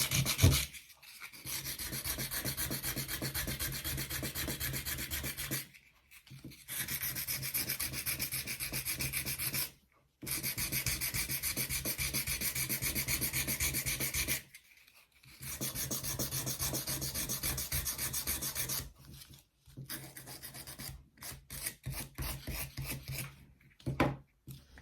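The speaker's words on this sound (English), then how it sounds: "so this is a 180 grit bit of sandpaper. I just want to sort of sand off this front bit a bit more" Sandpaper of 180 grit rubbing a small piece of wood for a 1/12 scale dollhouse sink unit, long steady rasping strokes in bursts separated by brief pauses, close and loud.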